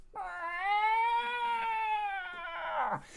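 A voice mimics the eerie yowl of a strange, pitch-black cat during a Fallout tabletop role-playing session: one long, close, loud wail held for about three seconds that sags in pitch and breaks off at the end.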